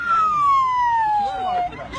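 A young boy in Ordu, Turkey imitates an ambulance siren with his mouth, producing a loud, steady voice tone that glides smoothly downward for nearly two seconds, very close and realistic.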